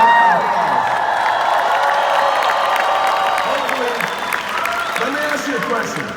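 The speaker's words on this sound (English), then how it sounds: "Give Tim a round of applause." A large convention crowd applauds Tim Story, clapping and cheering with a few whoops in a sustained wash of sound that slowly thins toward the end.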